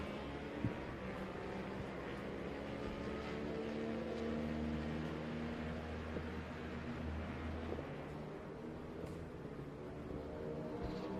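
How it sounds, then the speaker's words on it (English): Motorcycles racing laps around a track at an AHRMA race sound as a faint, distant, continuous engine drone with a steady hum and no clear individual pass-bys. "bike number 88, Chris Hasemeyer, solidly there in third as the laps continue to wind down here in race number 2"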